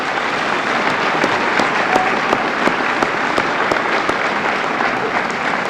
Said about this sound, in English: Let's give these students a great round of applause.